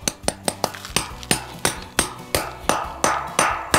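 A hammer drives a concrete anchor into a concrete floor with a rapid run of sharp metallic strikes that ring briefly and come at a quickening, steady rhythm, close and loud, with no talk.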